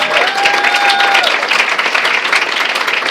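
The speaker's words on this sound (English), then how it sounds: "Can we just give her a round of applause?" Loud, steady round of applause from the audience at a human relations awards ceremony honoring an award recipient, dense clapping filling the whole stretch, with a faint tonal whistle or feedback-like tone in the first second.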